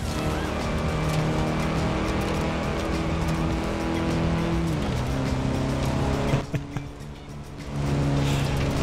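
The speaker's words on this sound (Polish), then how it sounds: "Tutaj mocniej wszedł w zakręt i przez kałużę." A car in Forza Horizon 4 taking a corner hard and running through a puddle: loud sustained engine drone that shifts pitch, a brief splashy dip, then the engine rising again.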